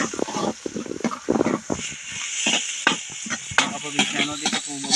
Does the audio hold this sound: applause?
no